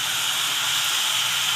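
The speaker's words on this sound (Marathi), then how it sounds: "टाकून लाल झाल्यानंतर चिकन यामध्ये टाकून परतून घ्यायचं." Chicken pieces are sautéed in a hot pan for Marathi chicken bhaji, giving a steady, dense sizzling hiss with no breaks and no talking.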